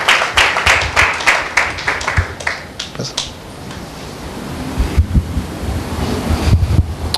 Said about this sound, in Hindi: एक जोरदार ताली देते हैं परमेश्वर के नाम की महिमा के लिए।